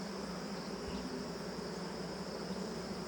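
Honeybees on a hive frame hold a dense, even buzz, a constant hum close by with no pauses and no voices.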